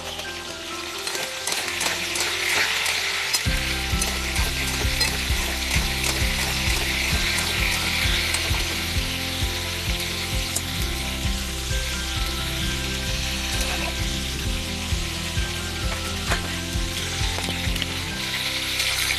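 Cauliflower frying with mutton in a pan, a loud continuous sizzle with steady scraping and rattling stirring throughout, no speech.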